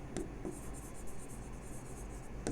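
Pen or chalk scratching steadily during a physics lecture on motion in a straight line, a quiet continuous scrawl with faint taps over low room hum.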